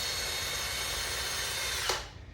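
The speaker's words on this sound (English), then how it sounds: "we're going to run the drill through the fat end of the corn cob" A power drill drives a screw through the fat end of a corn cob, whirring loudly and steadily before a quick spin-down near the end, alone without talk.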